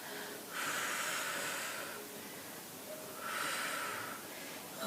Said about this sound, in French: Soufflez encore 2 fois.